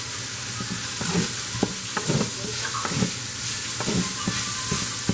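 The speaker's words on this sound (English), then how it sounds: "I'm going to saute this I am using only chicken onions and the ginger until it releases the flavor or the aroma" Chicken, onions and ginger sizzle steadily in a pan while a utensil stirs them. Irregular scraping strokes sound over the continuous close frying hiss, with no talk.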